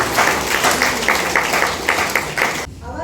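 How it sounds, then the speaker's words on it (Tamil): An audience at a Tamil religious retreat claps hands together in a loud, steady, rippling burst lasting a few seconds, then stops abruptly. "கைதட்டுங்க."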